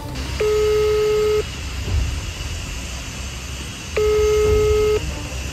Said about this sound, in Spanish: Voy a llamar otra vez a ver.